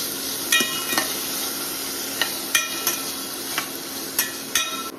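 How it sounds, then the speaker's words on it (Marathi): Onions and tomatoes fry together in a pan for Goan-style prawns, a steady close sizzle broken by several sharp metallic taps and scrapes of a spoon stirring against the pan. "कांदो आनी टमाट दोन्ही वांगडाच घालता आनी बरें तळसून घेता."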